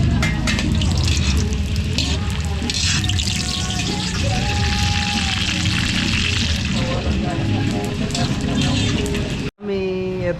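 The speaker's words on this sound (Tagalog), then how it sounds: "Nagpiprito na lang tayo ng chicharon." Chicharon fries in a large pot at a barangay fiesta catering job in Macabebe, Pampanga, a steady loud sizzle and crackle that runs continuously before cutting off abruptly near the end.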